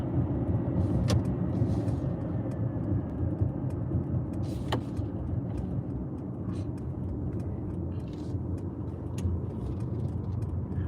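Inside a Mercedes EQS 450+ electric car cruising on a highway, a steady low road and tire rumble with wind noise fills the cabin throughout, with a few faint clicks but no talk.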